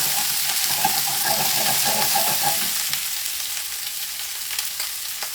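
Salmon fries in a pan alongside toasting seeds for a stir fry, giving a loud, continuous sizzle up close that eases slightly partway through, with occasional stirring ticks.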